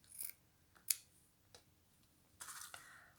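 Small scissors snipping decorative design paper while making a scalloped-label box: a few sparse, crisp cuts spaced apart, with a longer rasping cut near the end, close and fairly quiet over a soft background.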